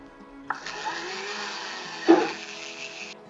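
Small electric drill boring holes into metal for handmade wire earrings, a steady high whine running for about two and a half seconds with a sharp click at the start and a brief louder grinding bump midway, close and without talk.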